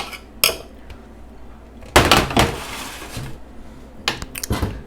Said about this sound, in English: I'm just gonna add like half of this sheet tray.